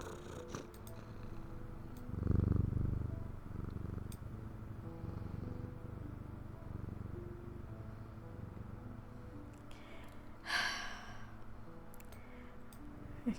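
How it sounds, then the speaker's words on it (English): A pet cat purring steadily and close while held tight against a chest and rubbing its head under a chin, the soft continuous rumble running throughout with a brief louder swell early on and light rustling, no talk. "He springs from his prison into my arms. I hold him tight to my chest as he rubs my chin with the back of his head, purring with delight"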